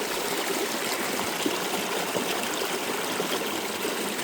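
A mountain creek near its source, high on a trail through a hurricane debris field, rushes steadily and close, a constant broadband wash of water with no pauses and no voices.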